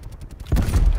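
Gunfire in Call of Duty Cold War: a quick burst of sharp clicks gives way to a loud, booming shot that rumbles on for the rest of the moment.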